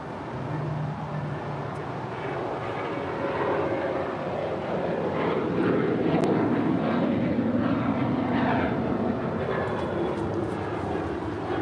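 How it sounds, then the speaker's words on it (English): An EVA Air Cargo jet rolls for takeoff on runway 25 left at LAX, a deep, loud engine roar that swells gradually and holds steady throughout. "EVA Air Cargo now rolling on 25 left to Taipei, flight 609."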